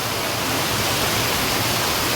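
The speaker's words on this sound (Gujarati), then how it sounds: "તો અત્યારે જો મિત્રો ફૂલ વરસાદ ધોધમાર ચાલુ થઈ ગયો" Heavy village downpour pounding steadily, a dense roaring hiss of rain and running water, loud and unbroken throughout with no voices.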